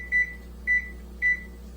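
Three short, even electronic beeps from a microwave timer being set for six minutes in a home kitchen while pasta cooks, evenly spaced and close, with a low steady hum underneath.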